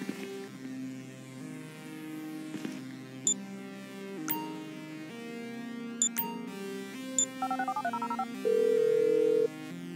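A phone ringtone from the video game GTA V plays as a repeating electronic melody over a steady background hum, with short bright pings and a brief sustained buzzing tone near the end.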